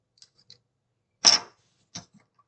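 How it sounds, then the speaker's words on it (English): Poker chips being shuffled close by: a few faint clicks, then one short loud clattering burst and a second smaller clack, with quiet gaps between. "I've been trying to learn how to shuffle poker chips for the"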